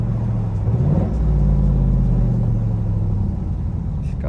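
A Chevrolet Camaro V8 cruising slowly along a main avenue in Jurerê Internacional gives a deep, loud, steady engine rumble with a brief rise in revs near the start, heard up close from inside the car.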